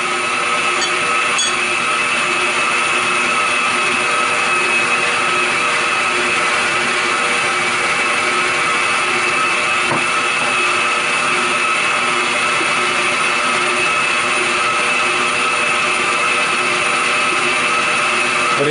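A stand mixer with a powerful dough hook running continuously, a loud steady motor whine and whir that holds unchanged for the whole stretch, close up and alone.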